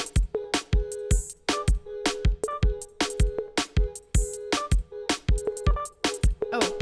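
A produced song plays an instrumental second verse with its vocals removed: punchy drums and a repeating synth or keys pattern in a steady driving groove, full and upfront with no singing or talk.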